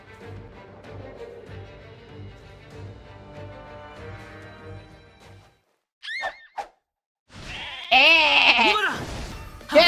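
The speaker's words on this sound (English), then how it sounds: "And a rabid sheep." A rabid sheep enemy in the video game Atelier Resleriana gives sharp, close bleats, first in a couple of short bursts and then a longer loud cry, after a stretch of quieter game music.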